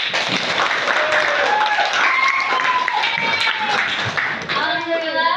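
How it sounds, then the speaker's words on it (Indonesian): A small group of teachers in a supervision workshop claps hands, uneven and moderately loud, mixed with overlapping voices and chatter. "beres, tepuk tangan dulu."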